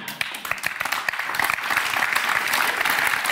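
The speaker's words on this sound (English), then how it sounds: "thank you for that nice, polite applause" An audience breaks into polite applause during a live podcast interview, starting with a few scattered claps and building into fuller, steady clapping from the crowd.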